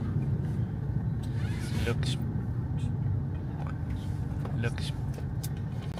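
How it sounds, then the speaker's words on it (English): Car interior while riding through crowded Bangkok traffic, with a steady low engine and road rumble throughout and a voice talking over it. "We are on our way, riding in the traffic of Bangkok, going to the airport."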